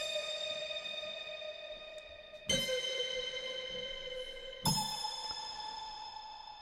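Sampled SONAR instrument pings from a software instrument, each struck tone ringing with a long built-in reverb tail; three bright pings sound alone, the later two entering on top of the still-decaying earlier ones.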